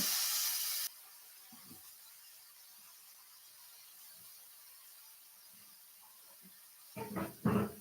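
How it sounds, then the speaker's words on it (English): Aerosol spray can hissing in a kitchen while tofu bacon is cooked near a flame: a loud spray burst opens, then quiet with faint clicks and handling, and a few short hissy sprays close it. "keep it away from the flame when you're spraying it"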